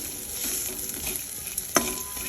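Spiny gourd (boda kakarakaya) fry seasoned with chili powder and turmeric sizzles steadily in a pan, broken by one sharp stirring scrape near the end, with no talk.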